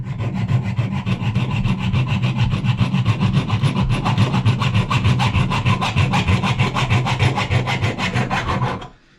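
A pipe being sawn through during a plumbing repair, with fast, steady back-and-forth rasping strokes that are loud and close and continue without a break for several seconds before stopping abruptly.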